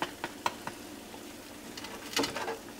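Fish frying in hot grease for a Southern fried fish, a soft steady sizzle with a few faint pops and crackles near the start and a brief brighter burst toward the end.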